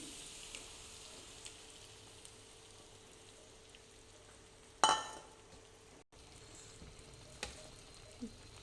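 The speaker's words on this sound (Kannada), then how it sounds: "ಈಗ ಮೊಟ್ಟೆ ಹಾಕ್ತಾಯಿದ್ದೀನಿ" Egg frying with dill leaves in a pan makes a soft, quiet sizzle, with one brief sharp crackle partway through as the egg goes in and a few faint clicks after.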